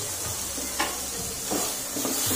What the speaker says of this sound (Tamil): அந்த இஞ்சி பூண்டு பேஸ்ட் மசாலாவோட இது நல்லா வதங்கட்டும்.